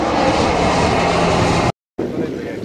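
A fixed-wing aircraft engine roars steadily and loudly at an airshow, a dense broadband drone that cuts out abruptly for a moment and then returns slightly quieter.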